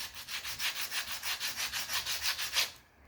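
Rhythmic back-and-forth scraping of worn emery cloth on rusty metal, about a dozen even strokes, close and steady, then stopping.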